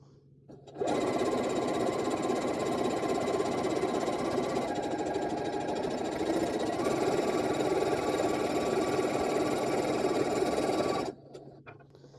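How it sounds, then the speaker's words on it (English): A sewing machine runs steadily for about ten seconds, stitching a quilt block along one side of a diagonal line with a quarter-inch foot, a close, even mechanical hum that starts and stops abruptly. "you're going to sew on both sides of your diagonal line"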